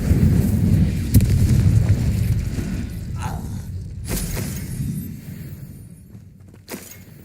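Confringo blasting-curse explosions go off during the battle for Rookwood Castle in Hogwarts Legacy: several sharp booming blasts with crackling, shattering tails over a low continuous rumble, close and forceful.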